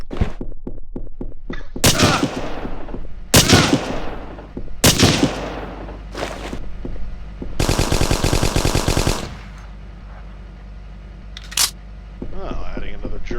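Gunfire from the game Hidden & Dangerous Deluxe: several sharp single shots and short bursts, then a sustained rapid machine-gun burst, all loud and separated by brief quiet gaps.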